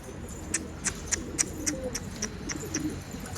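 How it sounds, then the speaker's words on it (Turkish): Pigeons cooing as birds arrive: a run of about nine short, evenly spaced calls, close and moderately loud, over a soft background hum. "Bütün kuşlar geldi şu."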